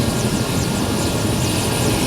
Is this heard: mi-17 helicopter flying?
yes